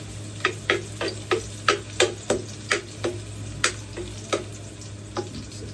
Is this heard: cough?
no